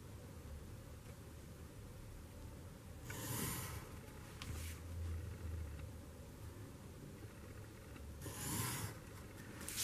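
A pencil draws grid lines across paper, heard as two brief, soft scratchy strokes a few seconds apart in an otherwise quiet room.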